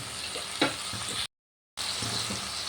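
A spoon stirs boiled potatoes and flat beans in a pan, giving a soft scraping, sizzling sound with a brief louder scrape and a short silent gap partway through.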